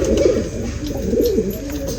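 A pair of Ferozpuri pigeons, one with red markings, cooing steadily and close by, low rolling coos repeating without pause.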